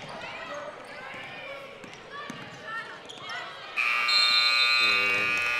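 A loud, sustained scoreboard buzzer ends the third quarter of a girls' varsity high school basketball tournament game in a gym, cutting in after a stretch of commentary and crowd noise and holding steady to the end.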